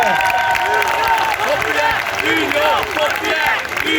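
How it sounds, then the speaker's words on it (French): A large rally crowd applauds and cheers at a May Day political gathering, loud continuous clapping mixed with shouts and chanting voices. "nous encourageant par vos applaudissements et par vos cris"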